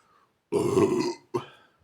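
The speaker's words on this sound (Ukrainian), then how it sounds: "Я так як той ведмідь відригну" A loud, close, drawn-out belch comes from a man after drinking a mojito-flavoured iced drink, followed by a shorter second burp, with quiet moments before and after.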